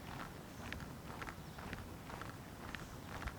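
Footsteps walk along an outdoor track on a calm, windless day, a regular soft crunching beat of steps, faint and close to the body-worn microphone.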